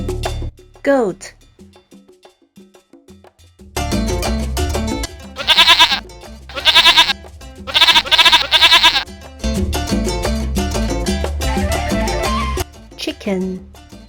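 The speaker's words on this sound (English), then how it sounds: "Goat." A goat bleats in several short, wavering cries close up, amid a busy farmyard backdrop with clanking bells and other livestock noise.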